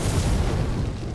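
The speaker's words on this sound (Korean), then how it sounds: "추격신의 마무리는 자동차 폭발이 국룰이죠." A car explodes at the end of a chase scene in the Korean film Master, giving a loud, dense, rumbling boom that fills the short moment with heavy low-end roar.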